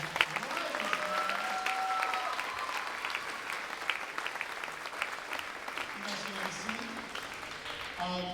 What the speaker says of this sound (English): A nice round of applause for our